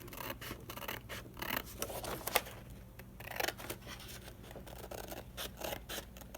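Scissors snip through paper while cutting out an 8-inch square for a handmade envelope, a run of close, quiet, irregular cuts and rustles over a low steady hum.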